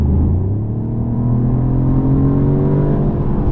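A 2024 Mercedes-Benz CLE450 coupe with a six-cylinder engine accelerates on the road, its rising revving drone climbing steadily in pitch, loud and close, heard without talking.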